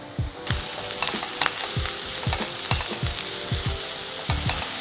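Garlic and celery sizzle in a hot pan for garlic bread, the steady frying hiss broken by repeated scraping strokes of a spatula stirring at an even rhythm, close up with no talking.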